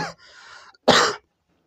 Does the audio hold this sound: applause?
no